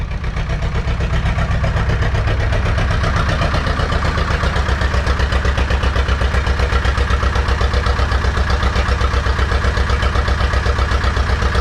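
An Ursus C-330 tractor engine idles after a cold winter start, producing a loud, steady, rhythmic diesel chug that continues evenly throughout and sounds close up.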